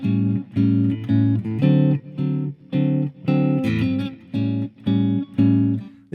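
Guitar strums a quick-four blues progression in A, moving to the IV chord in bar 2 and back to the I, with evenly spaced, bright chord hits in a steady shuffling rhythm, played alone and close.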